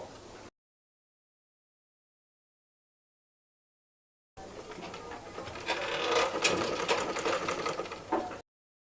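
A sewing machine runs for about four seconds, stitching piping fabric along the folded edge for a baby frock, after a short burst at the start and a long silence; the close mechanical whir rises steadily and stays alone without talk.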